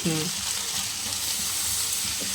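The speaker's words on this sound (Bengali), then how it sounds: "আমি এরপর পোস্তটা দিয়ে দিচ্ছি" Poppy seeds fry in a pan with a steady, close sizzling hiss that carries on throughout, and a short voice is heard at the start and end.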